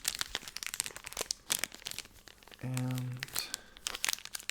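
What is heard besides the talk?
crinkling sound for ASMR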